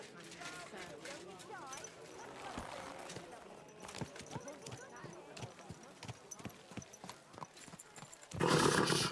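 Horse in Kingdom Come: Deliverance II, with clip-clopping hooves and snorts amid busy game ambience, then a louder burst near the end.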